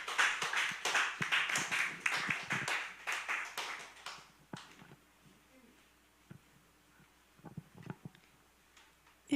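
A church congregation claps in welcome, a few seconds of quick, fairly close hand claps that thin out into scattered taps and quiet room noise.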